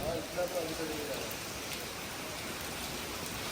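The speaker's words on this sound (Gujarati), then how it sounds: "बहुत बारिश आ रही है" Heavy rain in Ahmedabad, a dense steady roar of downpour on surfaces, loud and continuous throughout with no breaks.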